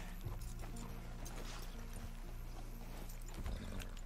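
Soft clip-clop of horse hooves in Red Dead Redemption 2 over a low steady rumble, with a brief whinny near the start, quiet and somewhat distant.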